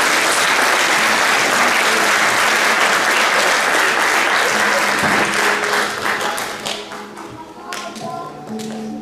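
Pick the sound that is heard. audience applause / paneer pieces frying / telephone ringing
audience applause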